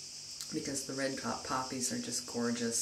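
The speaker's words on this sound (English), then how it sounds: "cicadas in the background, this chirping bug" Cicadas chirp steadily in the background on a Greek island in spring wildflower season, a high thin buzzing trill running beneath a person talking close by.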